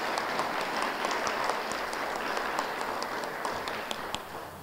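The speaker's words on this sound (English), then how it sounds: "the young lady in front of me deserves a great round of applause." Audience applause at a VCAM ceremony, a steady wash of clapping from a crowd that holds at an even level for several seconds with a few sharper individual claps standing out.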